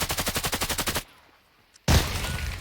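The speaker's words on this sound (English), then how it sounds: "That was a bonkers nade." A grenade goes off in a competitive esports shooter match, heard after a fast burst of rapid gunfire, a short silence and then a loud, sustained blast that fills the end, with no voices.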